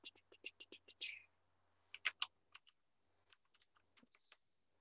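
Soft, quiet clicks of typing on a computer keyboard, a quick run of keystrokes followed by scattered individual taps, close and alone.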